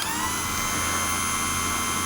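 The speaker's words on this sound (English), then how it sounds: "A chainsaw sharpening motor," A small electric chainsaw sharpening motor, used here as a drill bit sharpener, runs at a steady high whine with a constant hum, close and even throughout without any speech.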